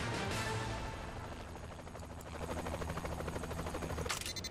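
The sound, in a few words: helicopter in video game Saints Row: The Third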